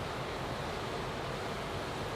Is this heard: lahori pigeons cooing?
no